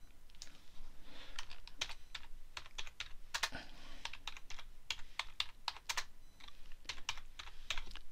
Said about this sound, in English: And you can type anything you like in there.